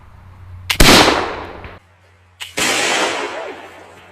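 A Kentucky black powder pistol fires twice outdoors, each shot a sudden, very loud blast trailing into a long rumbling roar, the two reports about a second and a half apart.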